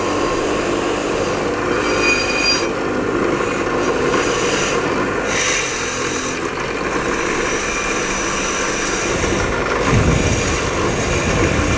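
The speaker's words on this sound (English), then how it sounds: "You can take a flathead screwdriver and chip away at some of that metal" Steady scraping and rasping of a flathead screwdriver chipping surface rust off a front brake caliper bracket on a 2001-2007 Volvo V70 XC, continuous and close with scratchy bursts throughout, no talking.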